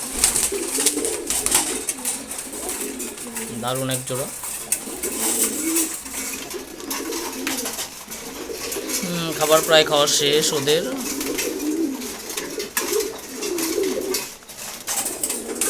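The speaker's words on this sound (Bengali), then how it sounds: "সিলভার গোর্রা কবুতর" A pair of Silver Gorra pigeons coos softly and repeatedly near a feeding spot, the low throaty calls rising in a couple of short bursts, partly under someone talking and faint clatter.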